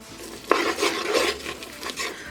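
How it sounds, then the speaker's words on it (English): Garlic and onions browning in a pan while being stirred, with a sharp utensil clack near the start and then a steady scraping and soft sizzling, close and moderately loud, with no talking. "So all I'm doing is browning and softening my garlic and my onions here."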